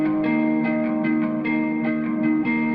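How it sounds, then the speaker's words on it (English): An original guitar loop from a melodic bass and dubstep production repeats a plucked, effected pattern with a steady rhythm, bright and sustained, playing alone with no talking. "That is actually the original guitar loop"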